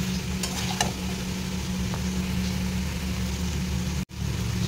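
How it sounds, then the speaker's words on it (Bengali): Ground spice paste of mustard, poppy seed and ginger fries in oil in a pan, a steady close sizzle with a low constant hum underneath and a few faint scrapes of stirring, no talking. "মশলাটাকে আমি এরকমভাবে অনেকক্ষণ থেকে কষাবো"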